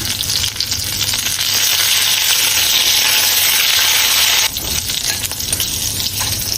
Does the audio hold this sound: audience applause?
no